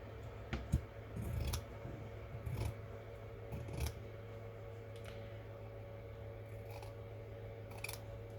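Scissors cutting fabric at a quilting table, a few quiet snips and soft rustles close by over a faint steady background hum.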